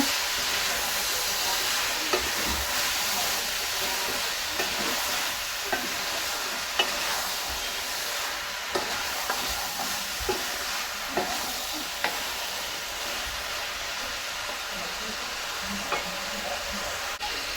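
Rui fish with potatoes and beans sizzles in a pan while being stirred, a constant hissing fry broken by regular scraping clicks of the utensil, close and steady with no voices.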